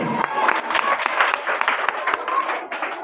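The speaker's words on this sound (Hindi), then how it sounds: "जोरदार तालियां के लिए।" Applause from a gathered crowd, dense and steady clapping with scattered cheers throughout, fairly loud and close.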